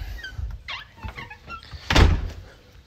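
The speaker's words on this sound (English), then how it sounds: "We'll go out this door." A door opening from a house onto the outside, with light squeaks and rattles of the hardware followed by a louder thunk as it swings, heard close with faint background noise.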